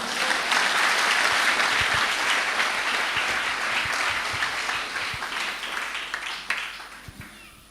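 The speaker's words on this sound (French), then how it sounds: "Est-ce qu'on peut acclamer le Seigneur?" A church congregation breaks into sustained, loud applause and cheering in praise of the Lord, a dense wash of clapping that holds steady and then slowly thins toward the end, with a few scattered voices mixed in.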